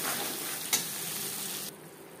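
Koi fish fry in hot oil in a pan as a tomato and green chili paste goes in, with a loud, dense sizzle, a short clatter partway through, and the sizzle dropping off sharply near the end.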